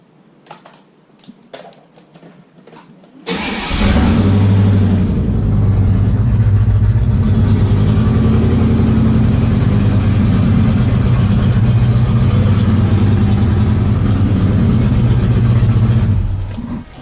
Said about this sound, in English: Before we go though, I'm gonna give y'all a little cold start.